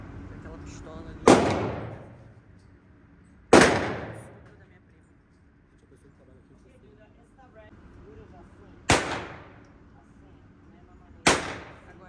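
Four loud, sharp shots from an old pistol at a shooting range, spaced several seconds apart, each with a short echoing decay over a quiet room tone.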